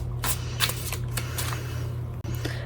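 A deck of tarot cards is shuffled by hand in repeated quick riffling bursts, close and crisp over a steady low hum.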